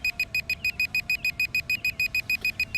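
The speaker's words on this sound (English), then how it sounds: "I really don't like that beep." Repeated electronic beeping from an SJRC F11 quadcopter drone controller, about fifteen short even pulses at a steady fast rhythm, close and clear over faint background noise.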